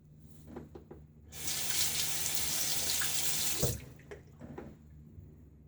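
A bathroom tap runs steadily into a sink for a couple of seconds while someone rinses their face after a wet shave, with soft splashes and handling noises before and after the flow.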